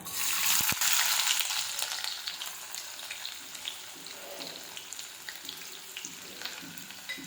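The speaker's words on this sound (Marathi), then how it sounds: "कांदा व्यवस्थित फ्राय करून घ्यायचा" Chopped onion frying with mustard seeds and cumin in hot oil, opening with a loud burst of sizzle and spatter that settles into a steady, softer hiss with occasional stirring, close by and with no voices.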